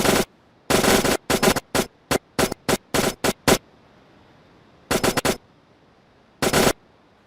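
A turret fires in a PlayStation VR shooter played with a Move dual-joystick controller. Rapid, loud bursts of gunfire come in short volleys, then pause, then return with two more brief bursts over a faint hum.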